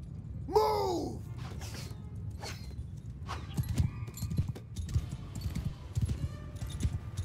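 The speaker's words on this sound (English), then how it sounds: "I've not run a horse in a while." Horse hooves clattering in the medieval battle game Mount & Blade II: Bannerlord, with a whinny near the start, then a steady run of hoof thuds under shouts and clashing battle noise.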